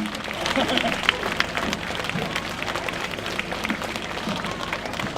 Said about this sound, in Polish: Wielkie brawa dla całej załogi.